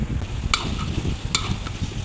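Spices with chopped tomatoes being fried and stirred in a pan for a peas and potato curry, giving a steady soft sizzle with two brief metallic clinks of the spoon against the pan, close by.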